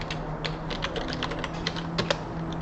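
Rapid, irregular keystrokes clatter on a computer keyboard close by, fairly quiet, over a faint steady hum.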